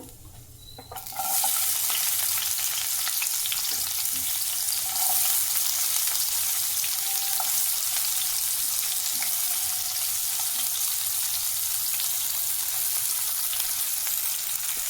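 Mustard seeds and cumin hit hot oil with a sudden loud sizzle after a quiet second, then keep up a steady crackling fry with occasional stirring clinks, no voices.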